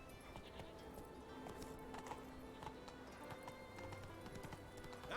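Roach the horse galloping in The Witcher 3, quick rhythmic hoof clip-clops running steadily under faint background game ambience.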